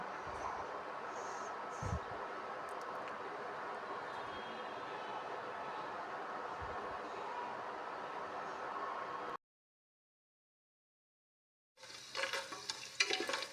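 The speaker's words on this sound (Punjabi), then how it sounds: "ਆਪਾਂ ਨੇ ਜੀ ਦੇਸੀ ਘਿਓ ਪਾ ਕੇ ਵਿੱਚ ਡਾਈ ਫਰੂਟ ਦਿੱਤੇ ਪਾ ਇਹਨਾਂ ਨੂੰ ਆਪਾਂ ਹਲਕਾ ਜਿਹਾ ਸੇਕ ਲਵਾ ਲਾਂਗੇ" Cashews and almonds roasting lightly in desi ghee, giving a steady, even frying sizzle with a few soft stirring knocks, then a brief silence and a busier return of sizzle and clatter.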